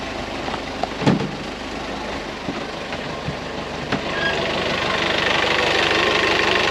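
A digger's engine cranks over and catches, settling into a steady idle that grows slightly louder, with a few clanks and knocks near the start; the engine has a coolant leak and a new belt.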